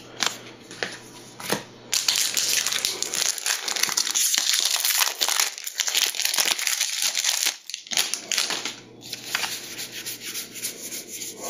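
Foil wrappers of Magic: The Gathering Theros Beyond Death booster packs crinkle and crackle as they are torn open and handled, a continuous close rustle with sharper crunches for several seconds and no talking.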